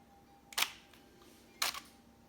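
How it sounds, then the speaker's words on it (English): A camera shutter fires twice, each release timed to a flash while photographing falling water drops at a slow 1-second shutter speed; the two crisp, fairly quiet clicks sit about a second apart in a hushed room. "So I'll time my shutter release once again to the flash, to the drop"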